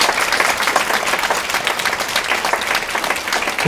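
Audience applause at a kitchen-set talk show, a dense continuous wash of clapping heard close and loud throughout the short stretch.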